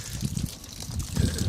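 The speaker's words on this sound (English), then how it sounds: "Up here we've opened up the low point valve, and it's taking all the water out." Water drains from the opened low point valve of a 2009 Montana fifth-wheel RV, a soft continuous trickle and gurgle heard up close with faint background noise.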